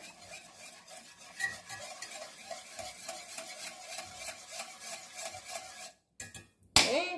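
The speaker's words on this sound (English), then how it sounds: "I'm going to whisk a little bit here." Milk is whisked in a pot on the stove for old-fashioned scalloped potatoes, a quick rhythmic scraping and tapping that runs steadily and is close by. It breaks off near the end and is followed by a sharp clatter, with one brief spoken word.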